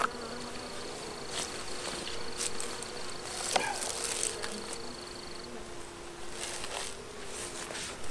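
Honeybees buzz at an open hive box outdoors, a soft continuous hum with individual bees passing near the mic, plus a few light taps and knocks.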